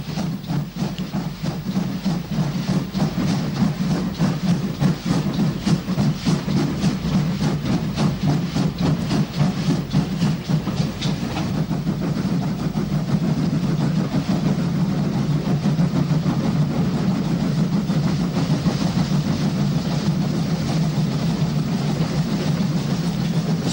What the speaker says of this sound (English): train coasts down towards Trasvaneth as it passes through the station